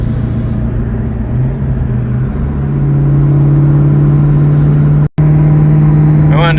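A 2003 Ford Terminator Cobra engine with an aftermarket pulley runs loud and close, a steady droning rumble that climbs in pitch as it revs, then cuts out briefly before resuming.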